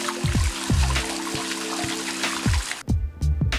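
Water from a shower sprays and splashes onto an LG G6 smartphone, a continuous hiss broken by a few low, hollow knocks and thuds, ending in a brief pause and then a final sputter.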